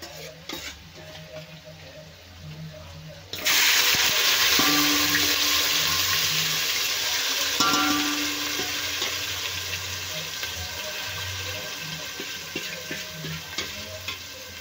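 Gravy poured into frying Afghani chicken malai, a loud sudden burst of sizzling that stays strong and slowly settles, with spoon scrapes and stirring in the pan, close by.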